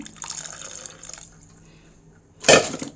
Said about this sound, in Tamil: கொஞ்சம் தண்ணி இதில் ஊற்றிக்கலாம்